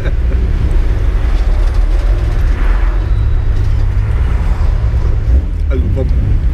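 A Triumph GT6 classic car with an inline-six engine drives on after a gear change, its loud steady engine rumble and road noise filling the cabin while a voice speaks briefly over it.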